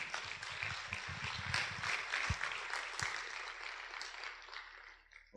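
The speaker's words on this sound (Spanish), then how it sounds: "Denle un aplauso al Señor." Quiet applause rises from a church congregation during a sermon, a soft, steady wash of clapping with a few sharper claps before it fades out near the end.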